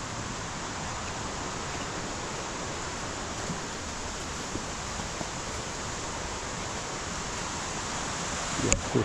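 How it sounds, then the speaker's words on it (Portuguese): Steady roar of nearby waterfalls, the Cachoeira Honorato Ferreira, with water flowing just below in a forested setting, a constant broadband rush that holds unbroken throughout. "Aqui a gente já ouve o barulho das cachoeiras."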